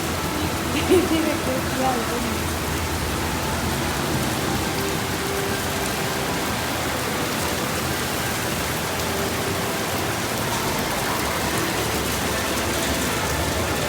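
Heavy rain pours down steadily in Malaysia, an even, dense hiss of drops on surfaces that runs unbroken from start to finish.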